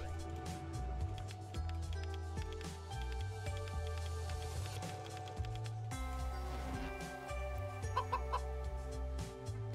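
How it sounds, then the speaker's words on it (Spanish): A chicken clucks repeatedly in the video game A Space for the Unbound over steady background music, the clucks bright and close amid a busy, tonal game soundtrack. "La gallina está enfadada."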